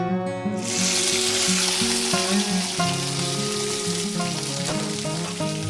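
Tomato and spices fry in hot mustard oil, producing a loud, continuous sizzling hiss that runs throughout, with steady musical tones underneath.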